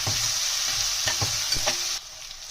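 Chopped onions fry lightly in hot oil for street-style veg chowmein, giving a steady close sizzle broken by a few soft stirring scrapes. The sizzle drops away sharply near the end.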